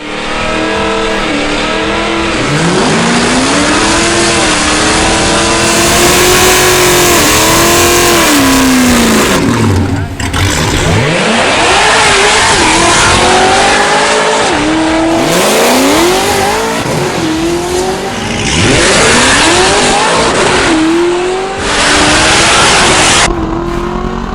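Tuned Cadillac CTS-V launching and accelerating hard on a drag strip, its engine roaring loudly through repeated rising gear sweeps with brief shift dips, sustained and close with no talk.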